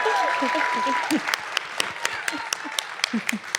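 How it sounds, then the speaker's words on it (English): Audience applauding for a guest at a live science talk event, scattered claps rising over a voice that fades out early, with sharp individual hand claps continuing near and distinct. "Round of applause for Brooke."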